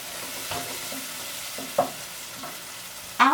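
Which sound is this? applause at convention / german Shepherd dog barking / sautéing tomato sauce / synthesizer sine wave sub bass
sautéing tomato sauce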